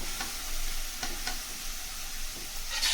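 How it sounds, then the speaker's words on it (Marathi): Grated beetroot sizzles in hot ghee in a pan over low flame, a constant near crackle broken by a few soft scrapes of a spoon stirring. "तर इथं मी किसलेला बीट जो आहे तो ह्या तुपामध्ये एक 5 मिनिटं परतून घेणार आहे."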